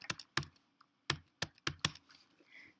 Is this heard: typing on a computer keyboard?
yes